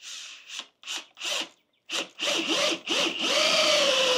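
Drill boring a 3/4 inch hole into wood for a nautical sculpture, heard as several short bursts then a longer sustained run, close and fairly loud with no talk.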